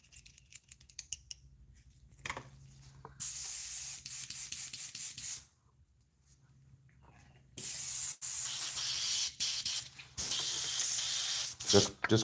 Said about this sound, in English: Just cleaning the airbrush